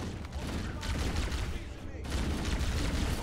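Plasma rifle from Halo CE firing in rapid, continuous bursts, loud and dense, with a short pause near the middle before the stream of shots resumes; a voice is faintly mixed in.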